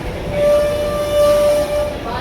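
A train rumbles steadily at a railway station, its loud continuous roar and a steady tonal hum filling the space close by.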